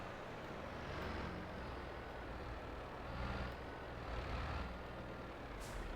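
A farm tractor in Farming Simulator 22 hauls a newly bought trailer, its engine drone steady and fairly loud with broadband rumble, swelling slightly at moments, with no talk over it.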